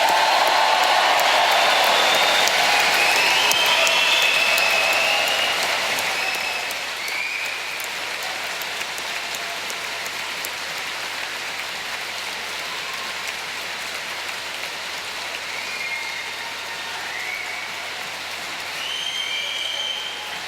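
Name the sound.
audience cheering and applauding graduates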